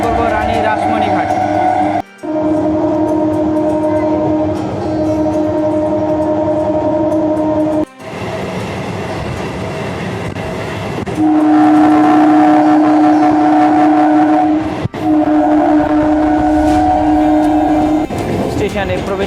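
Train pulling into Kanchrapara railway station, a loud continuous rumble with sustained droning tones and a few abrupt breaks, heard close from on board.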